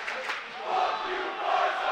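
A crowd chanting and shouting at a fraternity hockey championship game, a distant, reverberant mass of voices swelling in two waves over a short stretch.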